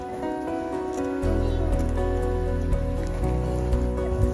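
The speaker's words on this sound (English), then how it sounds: "it started raining on us" Steady rain patters continuously on a surface at Woolly Hollow State Park, with a constant tonal hum underneath.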